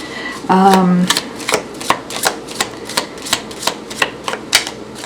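A deck of tarot cards is shuffled during a Pisces reading: a brief riffle burst is followed by a steady run of evenly spaced, crisp card slaps and flicks, close up. A short voiced sound is heard near the start.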